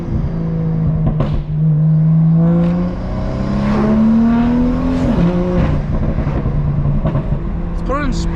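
A straight-piped BMW M2 with no ASD on a country road, its engine droning steadily from inside the car, with pitch rising and falling through revs and gear changes, loud and continuous under occasional talk.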